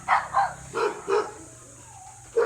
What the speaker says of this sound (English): my dog's playing here